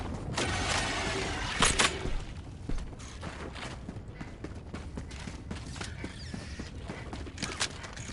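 Magazine reload in Helldivers 2 gameplay, mechanical clicks and clacks of a fresh mag seating, set amid a busy battle din of clattering impacts and distant gunfire that continues throughout.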